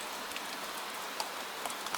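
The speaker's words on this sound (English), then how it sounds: "Rain gathers on each curved bar and slips downward in bright threads." Gentle rain falls steadily on a wet night street by iron railings, a soft even hiss with scattered faint drips, quiet and continuous.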